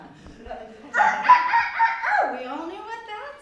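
A rooster crow plays as a sound effect in a stage performance, one long rising-then-falling call following faint low murmuring, loud and close, ending in a drawn-out descending tail.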